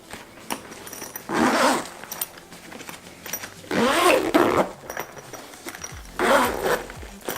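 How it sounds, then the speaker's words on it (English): Zippers on the compartments of a travel makeup bag are opened and closed in three quick, close, smooth pulls, separated by quiet pauses with faint handling noise. "when I was unzipping the compartments and zipping them back up, there was like no tugging"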